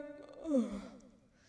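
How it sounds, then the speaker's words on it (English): A single short voiced exhale rises and falls in pitch, like a yawn or sigh, quiet and close. "An extended yawn filled the air."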